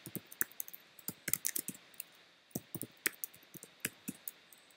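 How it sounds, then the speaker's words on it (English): A password is being typed on a computer keyboard, with quiet, close, irregular key clicks in quick clusters and brief pauses between them. "And then I would type in my password."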